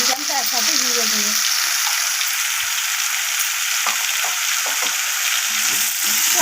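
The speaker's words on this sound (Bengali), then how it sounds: "তো আবারও নাড়াচাড়া করে আমি মশলাগুলোকে মিশিয়ে নিচ্ছি এইভাবে।" Potato and capsicum fry with spices in a pan, a loud continuous sizzle under occasional scrapes of stirring, while a voice talks briefly at the start and near the end.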